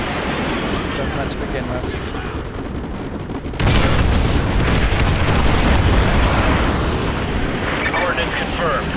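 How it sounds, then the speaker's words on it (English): Artillery strike explosions in Modern Warfare 2 erupt into a loud, rumbling barrage that swells abruptly partway through and keeps booming under shouted voices and radio chatter. "Fire mission received. Artillery inbound."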